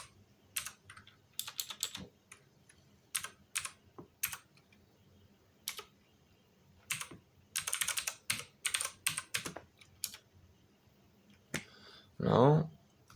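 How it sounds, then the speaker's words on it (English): Typing on a computer keyboard in bursts of quick, close key clicks separated by short pauses, with a brief voice near the end. "Let me type it in."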